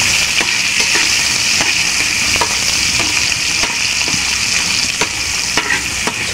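Chicken intestines fry in hot oil for adobong bituka, making a loud, dense, continuous sizzle and crackle close up, with occasional stirring scrapes and small pops.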